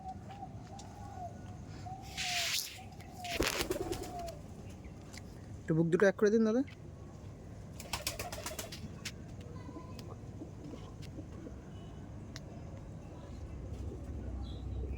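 Soft coos from a male and female pigeon pair recur in short phrases amid bursts of nearby rustling and handling noise, while someone speaks briefly.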